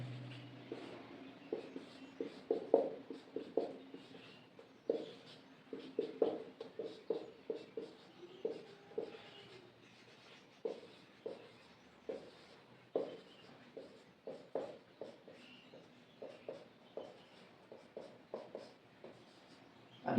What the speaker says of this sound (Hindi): तो हम अंग्रेजी वर्णमाला को विपरीत क्रम में लिखेंगे